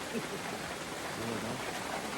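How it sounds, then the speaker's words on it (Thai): Steady rain falls over a durian orchard deep in the forest, a continuous soft hiss and patter filling the background for a couple of seconds with no other clear sounds. "เพราะว่าฝนเนี่ยตกทั้งวันเลยนะ"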